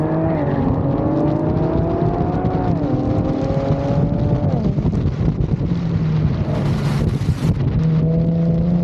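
Infiniti G37 engine revving while driving, pitch climbing through gears then dropping, steady loud engine note with wind noise across the whole stretch.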